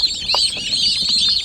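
High, thin peeping calls from young turkeys, continuous and overlapping, close by with a few soft lower clucks underneath.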